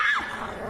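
Small dogs growl and yip in a brief, close, tense burst, with a sharp high yelp at the start giving way to rough snarling.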